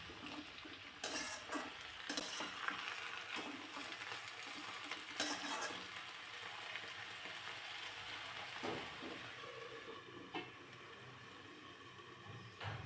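Onion and flowers sautéed together in a pan for a village-style vegetable dish, giving a faint, steady sizzle broken by scraping and stirring clinks, quiet and close with no voices.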